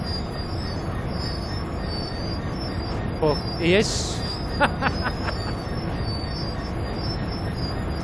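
Class 66 EWS intermodal freight train on the Bristol Terminal to Felixstowe North run, rolling past with a steady rumble and a sharp burst of wheel squeal partway through, under brief talk.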